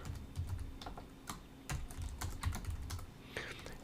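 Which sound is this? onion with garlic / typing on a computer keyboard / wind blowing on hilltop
typing on a computer keyboard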